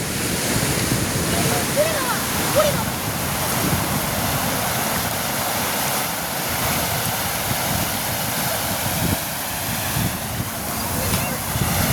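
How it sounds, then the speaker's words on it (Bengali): Sea waves wash in over bare feet at Palolem beach in Goa, a continuous close surf hiss and roar mixed with wind buffeting the microphone. "সমুদ্রের জলটা যখন যখন পায়ের ওপর দিয়ে যায় আর কি"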